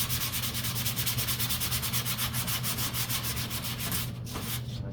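Sandpaper scrubs a model aircraft part for a P-51 Strega conversion in quick, even back-and-forth strokes, close and steady, before slowing and stopping near the end.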